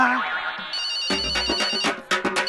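A phone ringtone plays loudly, a bright repeating electronic melody in short rhythmic bursts, close by with no talking.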